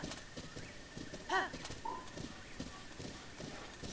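Horse hooves clip-clop at a steady walking pace in the video game Zelda: Breath of the Wild, with a short whinny partway through, moderately close and fairly quiet.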